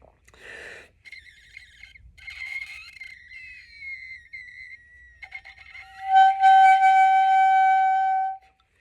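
Breathy air pushed through a clarinet gives thin, airy squeaks and hissing whistles instead of a proper note, in short bursts and then a sustained shrill squeal near the end.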